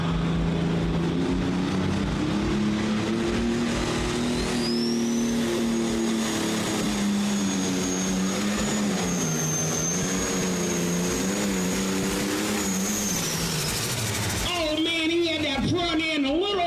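A pulling tractor named Coming In Hot roars down a dirt track at a county fair tractor pull, its engine droning loud with a high turbo whine rising and holding, then cutting off near the end as a voice speaks.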